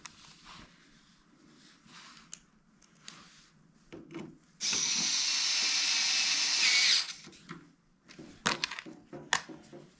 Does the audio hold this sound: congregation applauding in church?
no